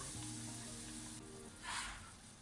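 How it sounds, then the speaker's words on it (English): Meatballs and tomato sauce sizzle steadily in a tajine, a dense continuous frying hiss with a brief louder swell partway through, close up and without speech. "Fry it together, mixing from time to time for another 3 to 4 minutes"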